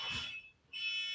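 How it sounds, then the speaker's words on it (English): A smoke alarm sounds with a shrill, steady, piercing tone, broken by one short gap before it resumes, moderately loud and heard alone. "I think it's a smoke alarm."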